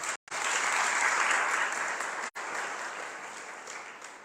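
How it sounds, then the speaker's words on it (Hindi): At a religious program at a Gaudiya Matha in Ambala Cantt, an audience gives a loud, sustained round of applause, broken by two brief cuts. "एक बार ताली बजाओ इनके लिए।"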